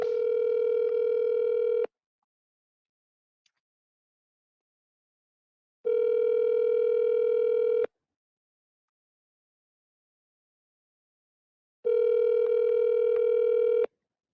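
Steady telephone tone on a call line, sounding in three long bursts of about two seconds each, separated by stretches of silence, clear and alone.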